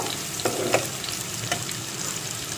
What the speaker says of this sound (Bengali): পেঁয়াজটাকে ভালোভাবে ভেজে নিয়ে আমি এতে একে একে মশলাগুলো দিয়ে দেব